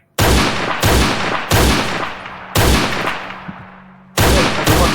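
Five heavy, loud gunshots ring out in a video game, spaced about a second apart, each with a booming echo that decays before the next shot.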